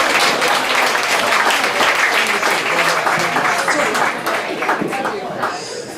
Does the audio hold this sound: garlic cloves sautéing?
no